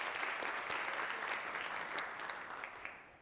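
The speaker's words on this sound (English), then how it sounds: "yes, you can clap on that" An audience at a university Black History Month lecture claps together, a dense steady wash of many hands that holds strong for about three seconds before easing off slightly, with no talk over it.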